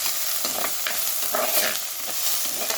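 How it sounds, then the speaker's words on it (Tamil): Chopped onions and tomatoes sauté in a pan, with a continuous close sizzle broken by irregular scraping stirs of a spoon, loud and without speech. "தக்காளியும் போட்டு நல்லா வதங்கிட்டேன்"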